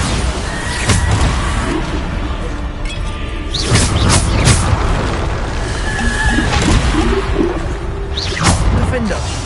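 Bombarda spell blasts in the Hogwarts Legacy wizarding game burst out as several sharp booming impacts with whooshes, scattered across the stretch amid ongoing voices and background game noise.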